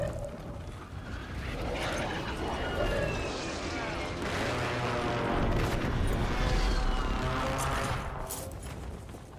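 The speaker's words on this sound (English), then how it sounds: "Who's shooting me?" Gunfire in a Call of Duty Warzone Rebirth match, bursts of shots crackling fairly close over a busy, noisy game mix that holds steady throughout.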